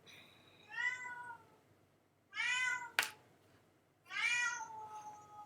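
A cat meows nearby in three drawn-out, clear calls with pauses between them, and a sharp tap lands just before the third meow.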